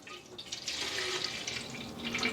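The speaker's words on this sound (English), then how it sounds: "I'm going to take that same water that we put in the tray for the bottom watering, and I'm just going to fill it up a little bit." Water pouring steadily from a tap into a houseplant watering can, a continuous close splashing rush with no talking.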